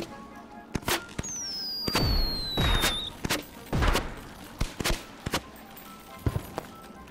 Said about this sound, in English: Let's try launching fireworks.